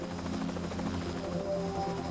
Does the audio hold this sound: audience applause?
no